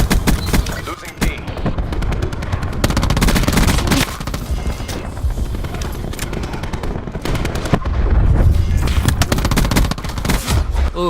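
Rapid bursts of video game gunfire and booms fill a noisy match between Xbox and PS4 players, dense and loud throughout, with shouted voices mixed in.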